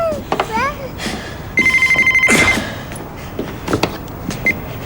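A telephone bell rings in a domestic interior, one burst of rapid trilling rings standing out near and loud amid background noise and movement sounds.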